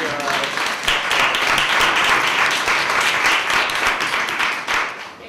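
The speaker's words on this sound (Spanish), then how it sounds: "así que aplauso para todos" An audience applauds the panelists after a panel discussion, steady full clapping that swells and then tapers slightly near the end, with faint voices mixed in.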